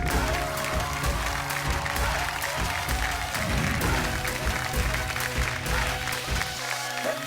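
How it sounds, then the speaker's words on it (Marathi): A studio audience at a Marathi television show applauds loudly, with sustained clapping that continues across the whole stretch and then thins out at the very end. "एकदा जोरदार टाळ्या"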